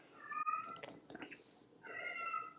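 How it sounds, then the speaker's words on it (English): Indoor cats meow twice, one drawn-out cry and then a second after a short pause, fairly faint and close with no talking. "The cats are very excited about this, if you can hear them."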